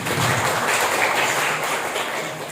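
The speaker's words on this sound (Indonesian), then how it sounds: "Tepuk tangan semuanya." Audience applause at a closing ceremony for a 2023 school-readiness technical training in Indonesia, a steady broadband wash of many hands clapping together, loud and sustained with no voices over it.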